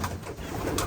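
Racing pigeons coo in a loft during young-bird season, a soft continuous murmur of several birds close by with a brief brighter flutter near the end.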